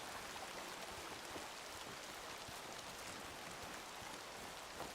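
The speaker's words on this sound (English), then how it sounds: "The rain and the thunder are great, but for some reason next to that water is just super loud." Loud, unbroken rain pours down next to water in the hunting video game Way of the Hunter 2, a thick, even wash of hissing drops and rushing flow with no pauses.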